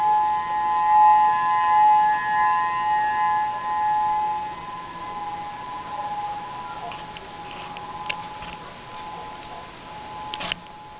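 Civil defense tsunami warning sirens sounding at 7am in Oceanview, Hawaii, a steady sustained tone carrying from a distance, louder at first and then fading, with a few faint clicks near the end.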